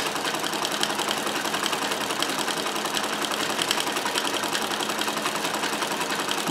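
A Necchi Supernova Ultra free-arm sewing machine running a ball stitch, a steady, dense mechanical whir with fast rhythmic needle chatter, continuous and close throughout with no talking.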